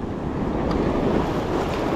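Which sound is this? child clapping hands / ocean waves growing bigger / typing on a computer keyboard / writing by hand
ocean waves growing bigger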